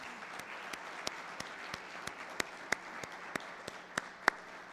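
Sparse applause for graduates at a fall graduation ceremony for the class of 2021, with scattered distinct claps rising slightly over a steady hum and soft crowd murmur, moderately distant.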